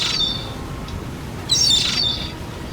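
Seagull calls in the Feather Family video game, with a short squawking burst at the start and a louder cluster of cries midway, heard alone over a steady background ambience.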